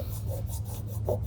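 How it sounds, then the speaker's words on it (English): A finger rubs back and forth across a scratch-test surface, giving a steady, close dry rasp with a few brighter strokes over a low constant hum. "Now once I give that a rub with my finger,"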